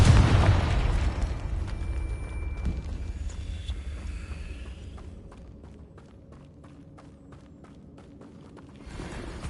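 A Confringo blasting spell explodes in Hogwarts Legacy, a loud boom opening the scene, followed by a spell whoosh and a string of sharp pops and crackles that fade before another burst near the end.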